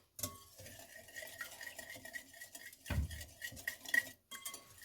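Brioche dough ingredients stirred together in a bowl, a steady run of scraping, knocking utensil strokes with a few sharper clinks, close and alone with no talk.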